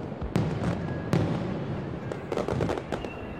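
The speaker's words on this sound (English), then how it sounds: "Japanese fireworks are famous for producing perfect circles, bursting one on top of the other like flowers blossoming." Japanese fireworks burst at a distance with sharp booms and crackling, several overlapping pops spread across a continuous outdoor rumble.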